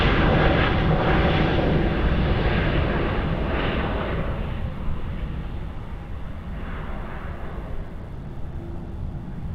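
An Airbus A330-300 lands on runway 34 left at Sydney Airport, its loud broad engine roar and rumble heard from a distance and gradually fading as it passes.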